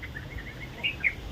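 A couple of short, bright bird chirps ring out over a low, steady background hum, fairly faint and spaced about a fifth of a second apart.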